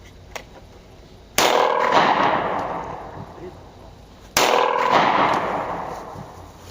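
Two loud gunshots are fired at close range outdoors, each a sharp crack followed by a long decaying echo, spaced about three seconds apart.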